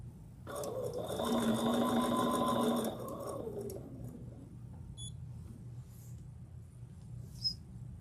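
A Bernina sewing machine stitches in a steady whirring run of a couple of seconds, then slows and falls quiet, with faint clicks and a brief high beep near the end.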